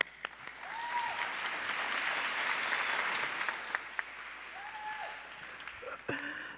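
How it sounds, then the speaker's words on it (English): Applause from a conference audience greeting a speaker invited to the stage, a steady wash of clapping at moderate distance that swells and holds for several seconds before thinning out. "the two people in the crowd who are cheering for me"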